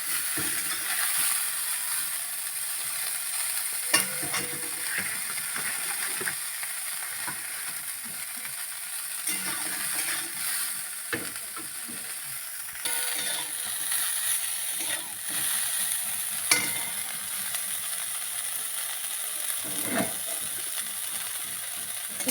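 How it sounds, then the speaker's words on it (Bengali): Food frying in oil in a wok, a continuous close sizzle with occasional stirring clatter and soft scrapes throughout. "বকুলিগুলো আমি কেটে রেখেছিলাম সেগুলো ভালো করে তেলে ভেজে নেব"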